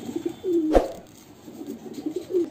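A male dark green, short-beaked pigeon gives a few soft, low coos up close, broken by one sharp click partway through.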